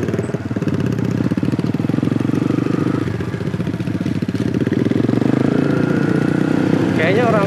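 Motorcycle engines drone steadily and loudly through a narrow alley on the way to Citepus beach, Palabuhanratu, a continuous close rumble with people talking over it.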